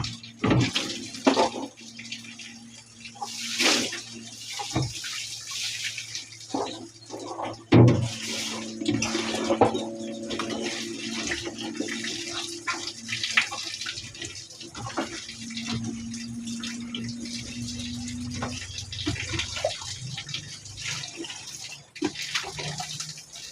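Water pours from a tap into a container in a long, uneven stream of splashing and gurgling, with the pitch rising as the container fills, and occasional knocks and handling sounds.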